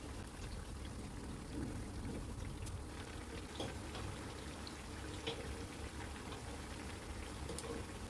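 Kerala unniyappam frying in hot oil, a steady bubbling sizzle with fine crackles and pops running continuously at low volume.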